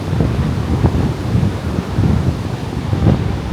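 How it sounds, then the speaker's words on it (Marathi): Wind blows across a seaside beach where fishing boats are moored, a loud, steady low rumble buffeting the microphone with a faint wash beneath it. "हवा सुटले."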